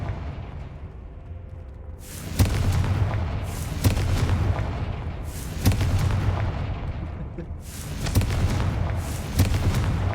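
Confringo blasting spells in Hogwarts Legacy go off as a series of sharp booming explosions, about five or six loud close blasts spaced a second or two apart, each followed by a rumbling roar.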